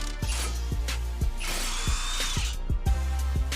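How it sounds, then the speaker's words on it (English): A power tool, likely an impact wrench, removes the two 17mm caliper bracket bolts on a 2004-2012 Mitsubishi Galant, with rapid sharp hammering bursts and a whirring motor close by and no talk. "And here's the location of the two caliper bracket bolts. Both of these are 17mm."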